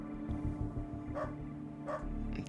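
A dog in the video game UnderRail barks in short, repeated bursts, moderately loud over a steady low game ambience.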